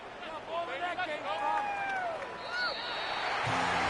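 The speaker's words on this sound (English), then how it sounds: "And the home crowd applauding." In the American football game Madden 25, a home stadium crowd applauds and cheers at the end of the season's last game, a broad roar that swells beneath play-by-play commentary.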